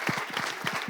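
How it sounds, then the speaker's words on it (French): A short, dense burst of hand clapping from an audience at a live televised Togolese presenter contest semi-final, quick, loud and close. "Applaudissements, applaudissements."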